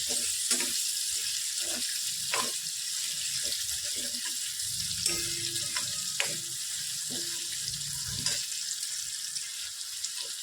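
Okra for dhaba-style bhindi masala frying in a pan, a continuous close hiss of sizzling oil with scattered scraping and stirring knocks, steady and moderately loud, no talking.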